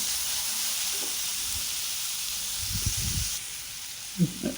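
Chopped onions lightly sautéing in a pan, a constant soft sizzle with a few low stirring knocks near the end.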